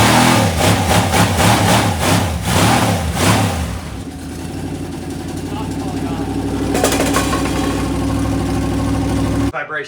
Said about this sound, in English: this engine doesn't seem to start as fast as all the other ones